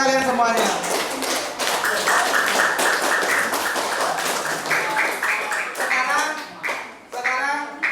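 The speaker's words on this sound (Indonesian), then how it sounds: "tepuk tangan untuk kalian semuanya." A classroom of children claps together in fast, uneven bursts of taps, loud and close, with young voices calling out between and over the clapping.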